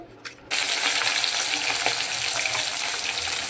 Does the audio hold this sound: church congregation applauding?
no